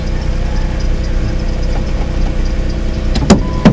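A Jeep's engine running at a steady idle, a continuous low rumble heard up close, with a couple of brief clicks near the end.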